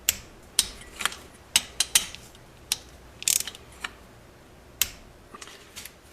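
Torque wrench clicks and ratchets while tightening cylinder head bolts on a 1973 Honda CB750 engine, a string of sharp, close mechanical clicks at irregular intervals with quiet pauses between.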